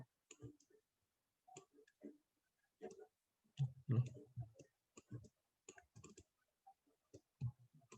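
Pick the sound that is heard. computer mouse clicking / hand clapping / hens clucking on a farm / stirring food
computer mouse clicking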